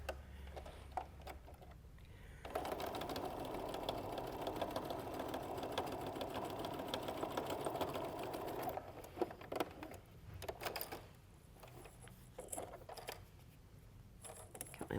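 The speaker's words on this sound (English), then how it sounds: "Then I'm going to take this unit, sew it to my perfect square." A sewing machine joins quilt block pieces for a winter quilt, running in one steady, moderately loud stretch of several seconds before stopping. Quieter fabric handling follows.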